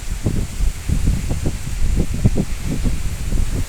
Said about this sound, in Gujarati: તો જોવો કેટલો સ્પીડમાં પવન ફૂંકાય છે